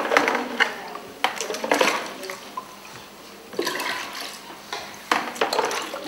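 Water is poured into a glass tube with a glass plate held against its end, a splashy, trickling pour in a few uneven bursts with clinks of glass between them.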